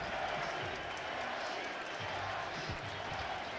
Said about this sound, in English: You can hear the crowd chanting Gabby.